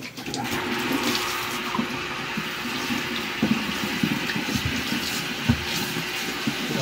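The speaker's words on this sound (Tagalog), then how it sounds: "Hugasan din natin ito kasi may mga kaliskis." Running water from a tap splashes steadily while a fish is rinsed clean of its scales, a continuous close gush with small clatters and knocks of handling mixed in and no voices.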